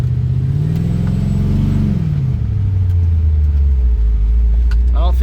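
A 1969 Chevelle restomod's 6.7L twin-turbo LS V8 idles low, then revs up with a climbing whine and settles back into a deep steady rumble, close and loud.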